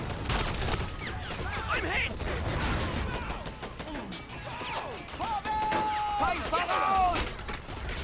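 Cannon fire and other weapons in a busy battle in Men of War Assault Squad, a World War II strategy game set during Operation Torch, with repeated crashing blasts over dense, continuous combat noise and a few whistling tones.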